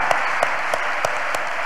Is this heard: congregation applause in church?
yes